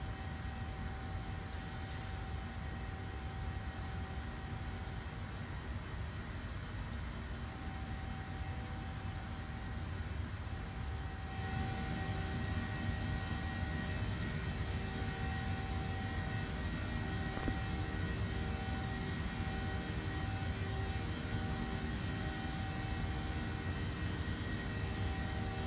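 Steady, loud jet engine roar of a PMDG Boeing 737-800 in Microsoft Flight Simulator, climbing with flaps retracting, a continuous broadband drone with a faint tonal hum, holding level and growing slightly louder partway through.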